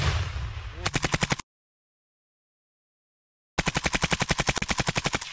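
Rapid bursts of machine gun fire from a fortified position, a dense stream of shots that stops abruptly, then after a silence another long sustained burst.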